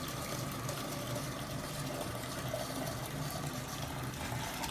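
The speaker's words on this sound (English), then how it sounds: "now you put the water in and you want to fill it up all the way" Tap water pours into an enema bag as it is filled to the top, a steady, continuous rushing that stays even throughout.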